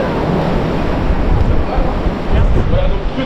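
Strong wind buffets the microphone during a gravel bike ride in hilly countryside near a lake, a steady broadband roar that swells in gusts, with no voices over it.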